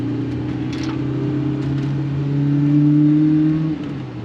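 A 1988 BMW E30 M3 engine drones steadily while driving, its smooth tone climbing slightly as it revs, then easing off near the end.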